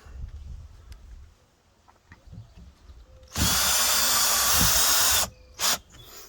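Cordless power drill driving screws into the thin side wall of a camper, one loud sustained whir of about two seconds after a quiet stretch of faint handling noise, followed by a short second burst.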